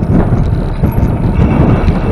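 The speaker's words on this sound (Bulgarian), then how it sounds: "много хубав вятър ни посреща" Wind roars into the microphone while riding a bicycle on a mountain road near a village, a loud continuous low buffeting rumble with no other sounds standing out.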